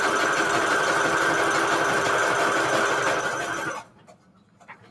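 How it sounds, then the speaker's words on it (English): A sewing machine set to a stitch length of 2 and width of 5 runs a steady, loud whirring buzz as it stitches the edge of a paper book-page pocket, then stops abruptly, leaving near silence. "I'm going to go ahead and sew the edge right here"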